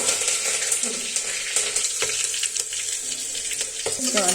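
Green chillies and curry leaves sizzle and crackle in a little hot oil, a steady bright frying hiss with stirring clinks and scrapes now and then, close and loud with no talking.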